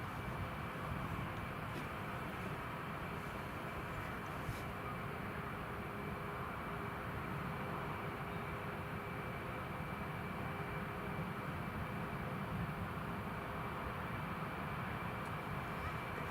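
A Ryanair airliner taxiing at Newcastle International Airport, a steady low engine rumble and broadband whine heard from a distance, unbroken for the whole stretch with no talk over it.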